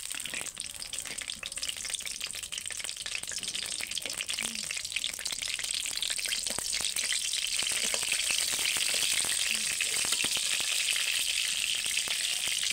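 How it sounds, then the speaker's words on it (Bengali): Whole spices crackle and sizzle as they hit hot oil in a pan for a pumpkin, potato and chickpea chhakka, a loud continuous frying hiss with fine popping spatters. "এবার ফোড়নটা দিয়ে দেবো।"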